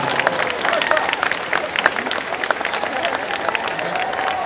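A crowd at a comic convention panel applauds the cast of Sabrina the Teenage Witch, a loud, continuous round of clapping with crowd noise mixed in and sharp individual claps standing out.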